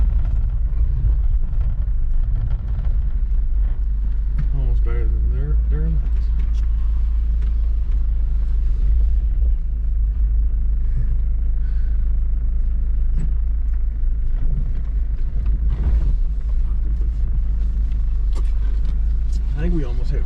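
A 1989 Honda Civic RT4WD wagon on summer tires drives with a heavy, steady engine drone and road rumble heard from inside the car, straining upward at times, under near-continuous talking.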